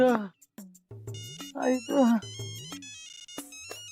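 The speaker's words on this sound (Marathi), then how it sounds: "मामा साहेबांचा फोन आहे. नको उचलू." A phone ringtone plays a bright, repeating electronic melody of sustained tones, with voices talking over and around it.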